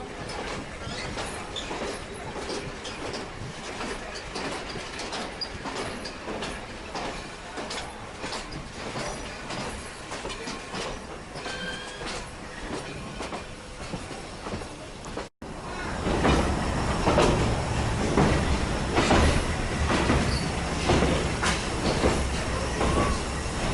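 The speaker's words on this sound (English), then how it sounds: "our train is picking up speed" Black River & Western heritage train rolling steadily on the rails, a continuous close rumble with clicking wheel beats and occasional squeals, growing louder and busier in the last third as it gathers speed.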